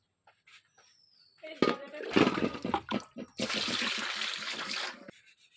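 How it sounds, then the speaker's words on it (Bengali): Shing fish, stinging catfish, are rubbed clean under water, with splashing, rubbing and a sustained gush of running water close by, and faint voice sounds mixed in. "শিং মাছগুলো এরকম ঘষে সুন্দর করে সাদা করে আমি ধুয়ে নেব"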